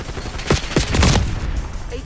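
Call of Duty: Black Ops 6 gunfire rattles out in a few close, loud bursts, a clustered volley that fades into a dull rumbling background.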